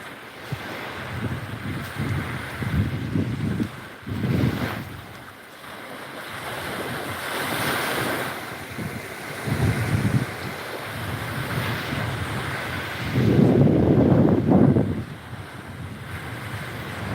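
Waves wash onto the seaside beach at Pak Phanang, Nakhon Si Thammarat, Thailand, a continuous surging roar with gusts of wind buffeting the microphone and swelling surges, and no talking.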